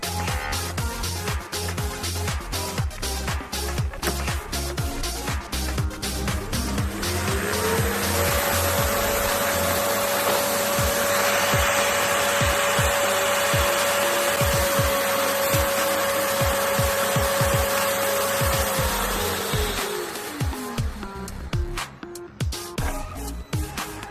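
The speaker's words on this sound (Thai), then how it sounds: "ตัวแท่นเก็บฝุ่นอัตโนมัตินะครับ จะทำการดูดฝุ่นออกจากตัวเครื่องดูดฝุ่นได้เลยนะครับ" An LG A9T-ULTRA cordless vacuum's automatic dust station pulls dust out of the machine into its bag. A loud, steady motor whine rises to a sustained roar for about twelve seconds and then winds down, with no talking.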